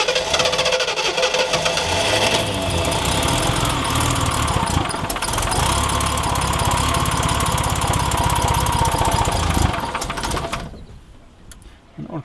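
An old Ford engine runs loudly and unevenly with a rattling, knocking chug, then sputters and dies down near the end.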